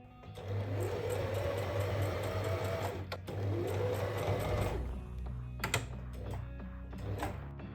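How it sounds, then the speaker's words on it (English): A sewing machine top stitches the main panel of a leather trench coat in two long bursts of rapid needle hammering with a brief pause between them, then a few short stitches and handling clicks. "Make top stitch on the main part."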